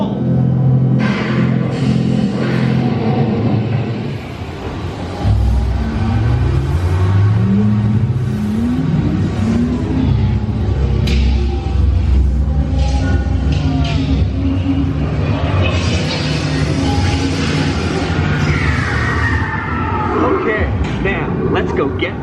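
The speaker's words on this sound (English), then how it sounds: "the Dino Institute has created the Time Rover, an amazing vehicle that will literally transport you to the age of the dinosaurs" Time Rover ride vehicle on the Dinosaur attraction at Disney's Animal Kingdom starting up and rolling, a loud continuous engine-like rumble and whir with rising surges, heard under voices and ride narration.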